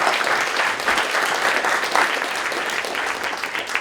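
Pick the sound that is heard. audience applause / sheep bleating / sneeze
audience applause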